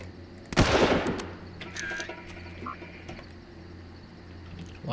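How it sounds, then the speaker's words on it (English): A few warning shots fired in the Far Cry shooter game, one loud sharp burst early on followed by fainter scattered reports over a steady outdoor ambience with croaking frogs. "Like to try and fire a few warning shots every now and then"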